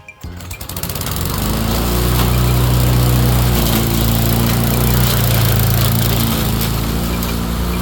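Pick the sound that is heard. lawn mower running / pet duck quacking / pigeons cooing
lawn mower running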